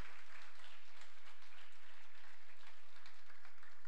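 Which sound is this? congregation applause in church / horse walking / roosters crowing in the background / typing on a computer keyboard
congregation applause in church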